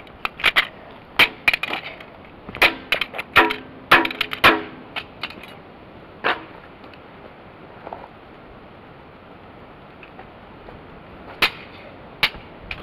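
Hammer smashing a plastic wireless mouse: a run of sharp, loud cracking blows in irregular bursts, some clustered quickly together, then a quieter gap before a few final strikes near the end, with no talking.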